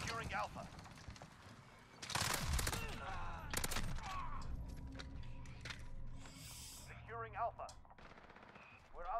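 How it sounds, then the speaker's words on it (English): Assault rifle gunfire from an older Call of Duty game on PS4, with loud bursts of automatic shots in the middle and lighter scattered fire, under talk from players throughout. "Fucking assault rifles"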